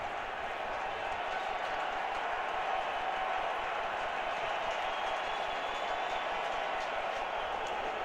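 A baseball stadium crowd at an NLCS playoff game, Cubs at Mets, forms a dense, steady roar of cheering and clapping that holds constant throughout, broad and washing rather than distinct.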